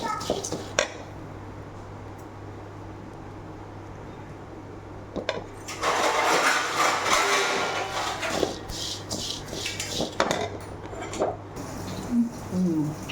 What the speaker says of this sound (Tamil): இப்போ இந்த சின்ன குண்ணியை நான் 2 டிப்பாக போட்டு வறுத்துக்கிறேன்.